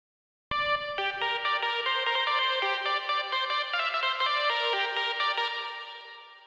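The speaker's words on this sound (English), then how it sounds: "I know you fall in love with a good reverb like this one" A synth or keyboard plays a short melodic phrase drenched in heavy reverb, notes blurring together and slowly washing out into a long fading tail.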